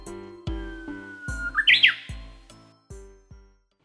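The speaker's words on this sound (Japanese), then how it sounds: "ウグイスのホウホケキョという鳴き声" Japanese bush warbler song, a single clear whistled phrase rising in the middle of the clip over a repeated low musical backdrop with sharp plucked or percussive beats.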